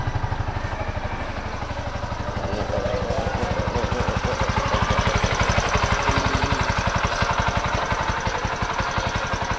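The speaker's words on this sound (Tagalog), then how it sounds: "Ganito po ang tunog ng kanyang makina." A motorcycle engine idles steadily up close, its rapid even chugging continuing throughout with a faint mechanical clatter on top.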